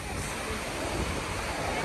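Strong wind and big sea waves at a beach roar in a constant broad wash, with wind buffeting the microphone and surf churning steadily underneath.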